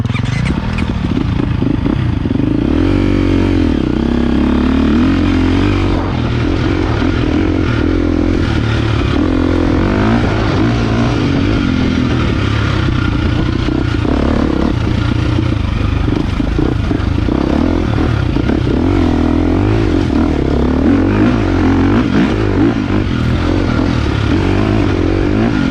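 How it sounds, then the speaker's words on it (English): A 2023 KTM 350XCF dirt bike rides rocky desert single track, its engine loud and close throughout, revving and surging continuously while the chassis clatters over rocks. "We're just ripping on some of this rocky single track."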